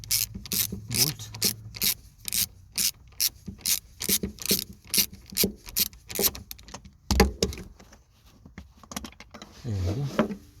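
A T30 ratchet removes a trim bolt on a BMW 3 Series E90 in the rear strut area, giving a steady series of close, sharp ratcheting clicks in rhythmic strokes, then a brief pause and a final burst.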